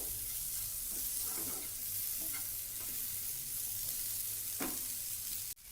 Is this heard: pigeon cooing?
no